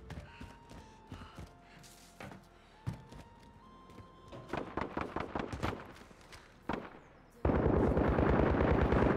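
Pistol fire in Call of Duty Warzone (Modern Warfare): a string of sharp, close shots mixed in with talking, ending in a loud rapid burst of continuous gunfire.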